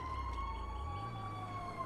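A fire truck siren wails in GTA 5 as a continuous high tone that slides in pitch over a low engine rumble, loud and close, with no talk over it.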